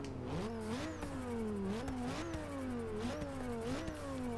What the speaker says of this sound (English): Let's give it a two-step.